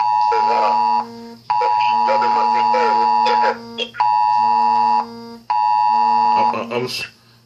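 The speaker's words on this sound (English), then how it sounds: "I'm getting alerts to my phone" A phone weather alert sounds as loud, sustained electronic beeps in long bursts with short gaps, repeating several times, while a person talks faintly underneath.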